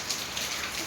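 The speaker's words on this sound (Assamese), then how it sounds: "আমাৰ ইয়াতে খুব ধুনীয়া বৰষুণ এজাক পৰি আছে" Steady rain falling outdoors, a dense soft hiss of drops on surfaces, fairly quiet and continuous with no voices.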